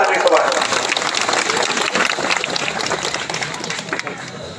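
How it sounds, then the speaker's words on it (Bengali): Crowd clapping at a Purulia chhau dance gathering, a dense, steady wash of applause that carries for several seconds before thinning toward the end, with some voices mixed in. "সুভাষের জন্য আরেকবার জোরে হাততালি সুভাষ।"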